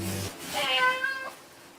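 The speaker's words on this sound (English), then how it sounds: "They're cats" Several domestic cats meowing in a short run of nearby calls, loud and clear, with a little background noise and no talk over them.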